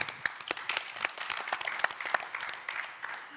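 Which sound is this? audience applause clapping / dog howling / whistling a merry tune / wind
audience applause clapping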